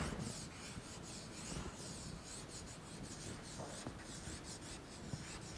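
A teacher writing during a Mongolian language lesson, a close scratchy rubbing of the writing tool in quick irregular strokes, faint and without talk.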